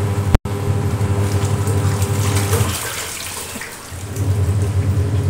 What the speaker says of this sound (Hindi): अभी मशीन अपनी कपड़े धुल रही है।